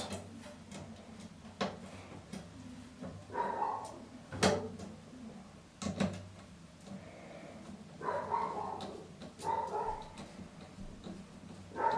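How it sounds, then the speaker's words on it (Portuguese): Excited dogs bark in short bursts and whimper indoors, the yips and barks coming in irregular clusters at moderate distance over a low background hum. "Os cachorros hoje estão"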